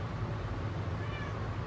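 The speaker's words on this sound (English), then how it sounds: "and my very mouthy cat." A talkative domestic cat meows indoors, a steady close vocal sound held through the short moment with no speech over it.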